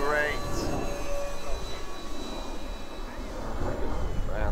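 An Avios KingTwin 1700mm twin-engine RC plane with a custom paint scheme flies at full power, a steady buzzing motor whine with a falling pitch sweep as it passes, under wind noise and someone talking.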